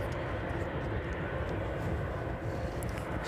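Aircraft on approach at East Midlands Airport on an evening: a steady, fairly loud, broad engine roar that holds without a break, with no talk over it.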